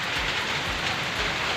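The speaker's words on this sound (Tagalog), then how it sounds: "lumakas lalo yung ulan mga kapatid." Heavy rain from Typhoon Goring pouring down in a dense, steady roar of drops on surfaces, loud and unbroken for a brief stretch.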